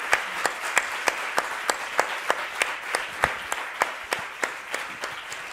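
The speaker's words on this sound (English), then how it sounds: "I would like to ask you to give him a big round of applause." At a lecture, the audience gives David Brooks a big round of applause. Distinct claps land at a fairly regular beat over a softer, diffuse clapping crowd, sustained evenly throughout with no speech.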